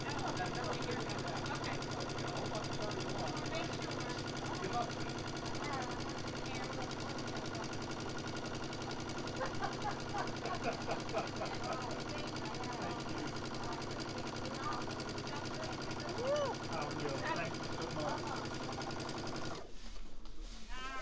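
Sewing machine top stitching along a guideline beam, a steady fast mechanical whir and rapid needle chatter running almost continuously, with someone talking over it before it cuts off near the end.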